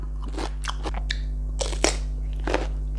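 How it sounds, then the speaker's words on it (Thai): Crisp, loud crunches of fresh cucumber being bitten and chewed close to the microphone, several sharp snaps spaced irregularly over a steady low hum, with no talking. "อืม แตงกรอบมาก"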